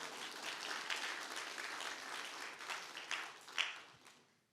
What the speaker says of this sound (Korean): 이럴 때는 박수치고 할렐루야 해야 됩니다